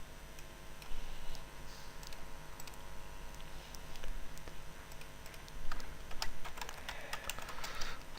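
Fingers tap a computer keyboard while entering a name in midas Civil bridge engineering software, giving quiet, irregular clicks in short bursts with slightly busier typing toward the end.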